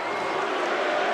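Indiana Hoosier fans at a college football playoff stadium game against Notre Dame, a steady distant crowd roar with chanting, continuous and wash-like.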